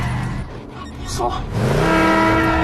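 A police-style patrol car pulls away hard, its engine climbing in pitch as it accelerates, with a brief tire squeal. Voices talk over the start.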